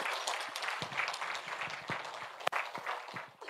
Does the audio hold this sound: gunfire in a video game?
no